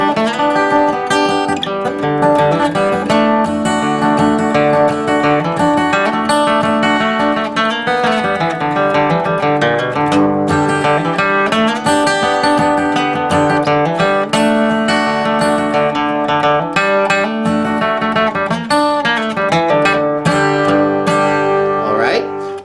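Acoustic guitar picks the Tom Dooley melody in Carter-style picking, bass notes and filler chord strums moving up the neck into higher positions, steady and close with no talking.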